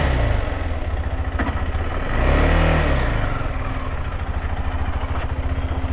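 A KTM 390 Adventure motorcycle engine runs after its clutch switch was replaced. It holds a steady, close idle with a rhythmic thrum, swells briefly into a rev midway, then settles back to idle.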